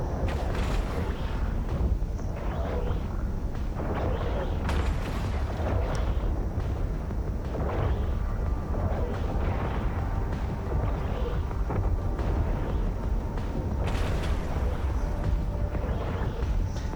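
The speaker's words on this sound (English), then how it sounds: "our guns are shooting at him" Heavy ship's guns firing at an enemy vessel in the space game Eve Online, a steady roaring rumble broken by repeated booming blasts, loud and continuous throughout.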